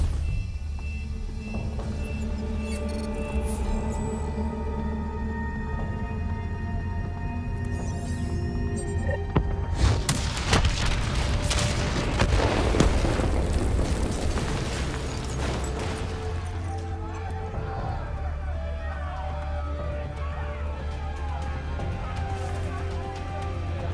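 A heavy detonation blast in Call of Duty: Black Ops 3 rumbles beneath a dense layer of game music and effects, swelling into a loud roar before settling back to a steady background.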